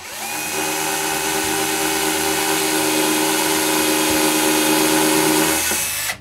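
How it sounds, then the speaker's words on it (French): A power drill bores screw holes into varnished wood for a shoe rack, a steady, loud, close whine that runs unbroken for several seconds with no talking. "je perce les trous de vis que j'ai marqués auparavant"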